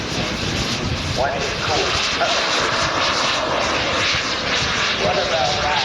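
A jet turbine on a 50% scale Fox RC model glider roars steadily and loudly throughout, a dense continuous rush with people talking under it outdoors.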